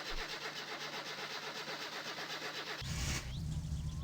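A car engine cranks and starts in the My Summer Car driving game, fitted with a racing exhaust, racing carb and muffler. Steady cranking churns for almost three seconds, then the engine catches with a loud roar and settles into a rough idle.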